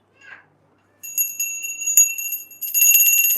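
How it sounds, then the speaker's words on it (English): A hand bell rung repeatedly in a room, its bright metallic strikes coming in a steady run and building into a dense, ringing jingle toward the end, following a brief faint sound at the start. "ding, ding, ding, he'll ring the bell"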